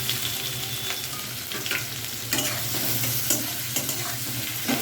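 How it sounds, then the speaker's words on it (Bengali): Chopped onion frying in oil in a pan alongside cumin seeds for a mutton liver curry, a steady close sizzle with intermittent scraping stirs, no talking. "পেঁয়াজটাকে আমি হালকা বাদামি করে ভেজে নেব, গাঢ় করবো না।"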